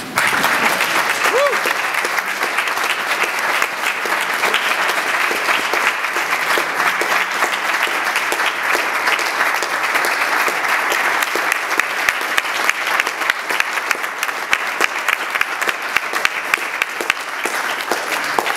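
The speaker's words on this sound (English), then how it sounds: "Let's give them a round of applause again" An audience applauds performers at St Luke's, with steady, dense clapping that stays loud and full for the whole stretch, with faint voices mixed in underneath.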